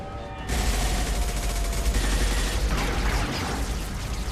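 Dense, sustained gunfire in the Xbox 360 video game Mass Effect 2 starts suddenly and keeps up as a loud, continuous volley with mechanical clatter and no talking.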